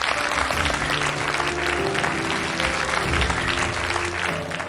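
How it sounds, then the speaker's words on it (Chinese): A studio audience applauds to welcome a senior traditional Chinese medicine pediatrician onto a health talk show, the clapping steady and dense for the full span, loud and close with no talk over it. "咱们掌声欢迎吧。"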